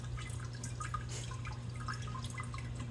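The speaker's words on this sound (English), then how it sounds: "all this is going to do is to begin spraying liquid up onto the plant's roots" Water from a PropBox plant cloner sprays and drips onto plant roots and stems, a faint continuous spattering with scattered small droplet ticks over a steady low pump hum.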